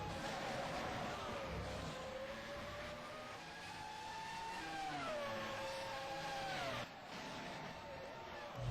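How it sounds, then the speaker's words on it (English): Simulated Formula 1 cars from the 2011 season in rFactor, racing at Montreal in Canada, roar with engine tones that rise and fall as they rev through the gears, one engine sweeping upward before dropping sharply near the end. "Listening to those fantastic engines roar."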